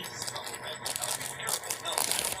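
Dull scissors scrape and crinkle through stiff plastic packaging in short rasping strokes, close up, with someone talking over the cutting.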